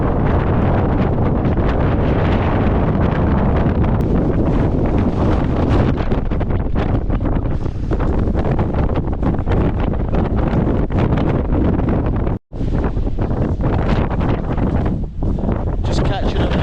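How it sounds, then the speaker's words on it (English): A strong mountain gale on the climb of Ben Lawers via Beinn Ghlas roars and buffets against the microphone in a loud, continuous rumble, dropping out for an instant before surging back. "Seriously windy, I've lost my hat!"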